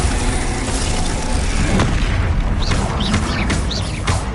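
A Bombarda spell explosion in the Hogwarts Legacy video game: a loud, dense, continuous blast roar with a sharp burst near the middle and several swooping magical whooshes toward the end.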